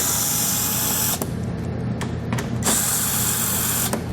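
A 7/32 socket tool removes the fasteners holding a plastic center panel on a 2016 Ford Edge. Loud whirring bursts are broken by short gaps and clicks, with no talking.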